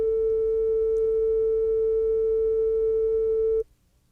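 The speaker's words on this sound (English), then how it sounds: "These examples show changes in amplitude for a given frequency." A pure, steady electronic tone holds at one pitch for several seconds, then cuts off abruptly into near silence.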